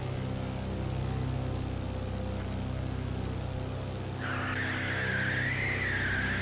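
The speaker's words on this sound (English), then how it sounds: "That there is actually the brakes because I don't have my brakes set correctly. So don't worry about the squeal." Brakes on a simulated aircraft squeal during ground taxiing in X-Plane 11 because they are set incorrectly, a sustained wavering high squeal that starts partway through over a steady engine drone.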